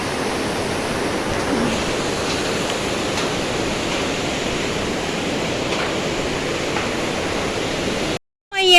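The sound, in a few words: Tamor river flowing under a bridge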